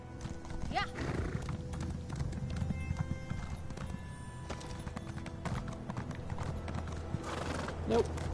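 Horse in the Elder Scrolls Online game trotting with steady clip-clopping hooves, close and fairly quiet, with a horse whinny near the start and another near the end over a low game ambience.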